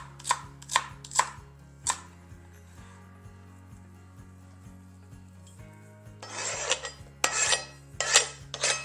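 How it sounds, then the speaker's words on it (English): The back of a knife scraping chopped celery off a wooden board into a crock pot, a few quick scrapes and taps followed by longer rough rasping strokes, close up over a low background hum. "use the back of your knife to scrape the food into the crock pot"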